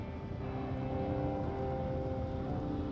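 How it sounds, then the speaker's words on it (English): A helicopter arrives in the Firewatch video game with a steady, loud rotor and engine drone, a dense continuous rumble with no voices. "There's the helicopter."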